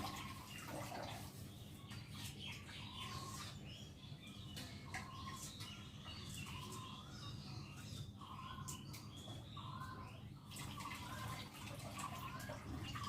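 Mung lentils being washed in water in a kitchen, faint swishing and dripping with light splashes, while birds chirp softly in the background.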